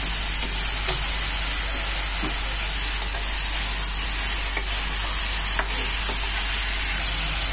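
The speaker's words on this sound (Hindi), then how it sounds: "अब इसमें हम शामिल करेंगे चिकन।" Chicken pieces sizzle steadily in a hot frying pan for white chicken korma, with a constant hiss and occasional scraping clinks of a spoon stirring, close and loud, no voices.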